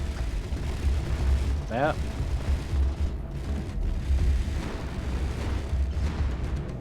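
Missile explosions strike a ship in the Space Engineers StarCore tournament, a steady low rumbling roar of blasts and impacts running throughout under a commentator's voice.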